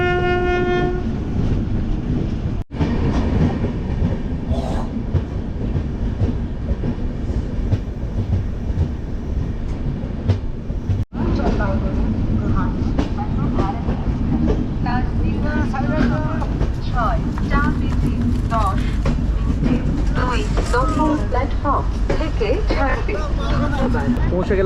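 The Kamrup Express train arrives at NJP station with a loud, continuous rumble of wheels and carriages and blasts of the horn, while a crowd chatters throughout.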